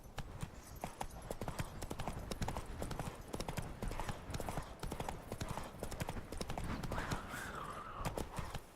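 Horse hooves clip-clop rapidly and steadily in the video game The Witcher 3 Wild Hunt, a loud, close galloping rhythm over outdoor ambience, with a brief voice near the end.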